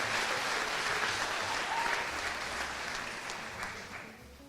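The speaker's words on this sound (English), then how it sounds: "Let's give them another round of applause." Audience applause for scholarship winners at a 4-H state awards ceremony in Arkansas, a dense, even clapping from a crowd that holds steady, then gradually thins and fades toward the end.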